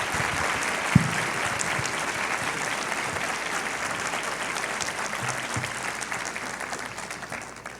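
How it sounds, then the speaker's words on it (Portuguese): A full auditorium at a Brazilian labour-law congress opening conference bursts into steady, dense applause that holds evenly throughout and tapers slightly at the end. "Auditório lotado, aplauso"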